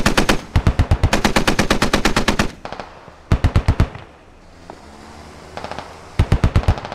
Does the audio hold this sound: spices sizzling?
no